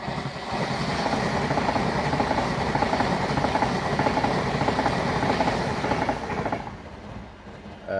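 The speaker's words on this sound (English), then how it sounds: "Here comes an Avanti at West Coast, Class 390." An Avanti West Coast Class 390 passenger train passes at speed along a line in Lancashire, a loud steady rush and rumble with rapid wheel clatter that holds for several seconds, then eases off as it fades.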